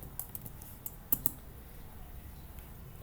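Commands are typed on a computer keyboard into a command prompt, a quiet scattering of irregular key clicks with a couple of sharper taps near the middle.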